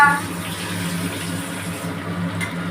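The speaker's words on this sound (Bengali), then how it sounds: "আমি ধনে পাতাটা একটু ধুয়ে নিই এই যে ধুয়ে নিচ্ছি ধনে পাতা" Tap water runs steadily while coriander leaves are washed in a sink, a continuous close rushing flow with a low hum underneath, with no talking.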